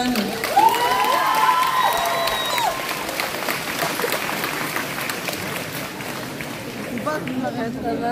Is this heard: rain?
no